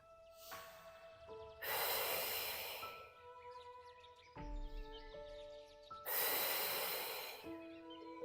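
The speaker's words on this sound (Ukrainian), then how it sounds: "Давайте ще вдих, видих." Slow, deep breaths in and out during a calm abdominal exercise for the deep core muscles, with two long airy exhalations, close to the microphone and soft, over a quiet background with faint tonal hum.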